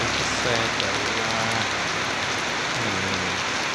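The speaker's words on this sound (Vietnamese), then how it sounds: "hôm nay thì mưa cũng tương đối lớn" Heavy afternoon rain in the countryside pours down in a dense, continuous roar on nearby surfaces, steady and loud throughout, with faint low rumbles underneath.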